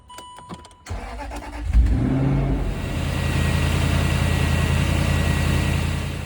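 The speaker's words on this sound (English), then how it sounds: "now we're going to start the car and let it run for about 10 minutes" A Land Rover Discovery 3 4.4 V8 engine cranks briefly, catches with a burst, then settles into a steady, rumbling idle.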